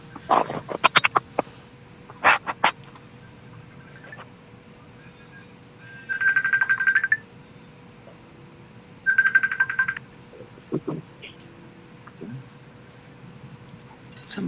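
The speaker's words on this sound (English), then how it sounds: "Somebody's phone is ringing." A phone rings somewhere in a room during a live talk show, two short trilling bursts a few seconds apart, fairly distant and moderately loud, set among scattered knocks and handling noises.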